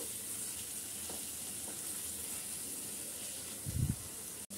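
Spice paste (masala) for an ash gourd (chal kumra) curry sizzles steadily in a pan as it is sautéed, a soft, even frying hiss with a brief louder stir near the end.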